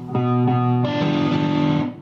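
Electric guitar notes played through distortion, sustained and left ringing together into a thick, buzzing chord that lingers for about two seconds.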